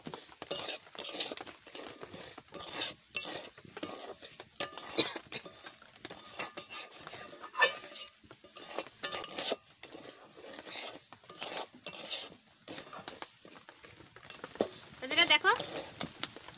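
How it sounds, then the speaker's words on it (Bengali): Semolina being stirred and roasted in a pan for carrot upma, giving repeated scraping and rubbing of a spoon against the pan at close range, with a voice talking over it throughout. "দেখো আমি হচ্ছে সুজি কেরম করে ভেজে নিচ্ছি।"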